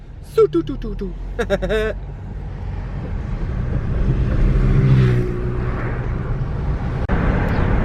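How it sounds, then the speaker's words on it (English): A Nissan S14 driving fast, its engine and road noise a steady broadband roar throughout, with people talking and exclaiming over it early on. "This is the fastest the S14 has moved in about 2 years."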